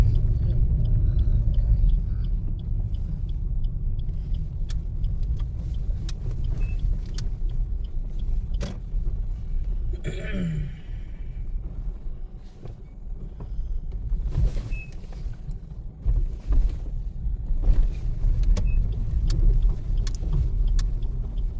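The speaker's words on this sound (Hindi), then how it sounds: "एकदम खचाखच भरी है गाड़ियाँ।" Cars fill a packed parking area at The Gajraj resort by the jungle gate of Pench Tiger Reserve, with a steady low engine rumble and occasional passing vehicle sounds throughout.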